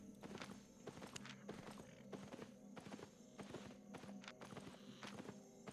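Horse hooves clip-clop at a steady walking pace in the Albion Online game, a regular series of close, moderately loud hoofbeats running throughout with a faint hum of game ambience beneath.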